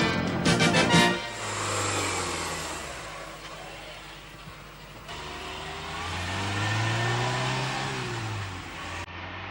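Peugeot 205 CT cabriolet with a 1360 cc, 80 hp engine and five-speed gearbox pulling away and accelerating, a steady mid-pitched engine note rising and falling across gear changes, fairly close and continuous.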